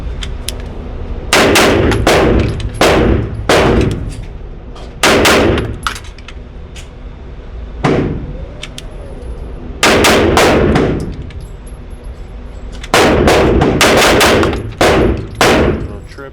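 Pistol double-tap gunshots fired during USPSA practice drills, loud sharp reports arriving in quick pairs and small bursts spread across the stretch, each pair echoing briefly, with no talk.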